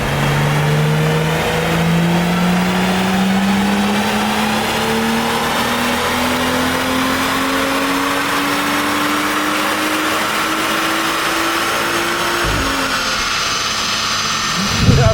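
A tuned BMW N55 turbo engine running on its stock map pulls in one long, loud, close run, its note climbing steadily before it lets off near the end.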